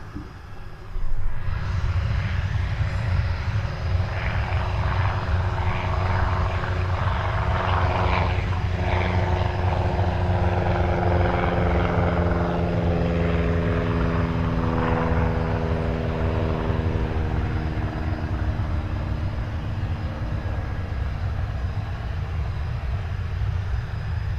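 Blackburn Buccaneer jet engines run steadily at Cotswold Airport before a fast taxi, a loud continuous roar with a whining tone that holds strong throughout, heard alone with no talk.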